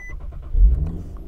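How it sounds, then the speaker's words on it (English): A 2015 Infiniti Q60S is started with its push button, a short chime followed by the engine catching with a deep rumbling surge, close and brief. "already the car has just started and that motor sounds so good"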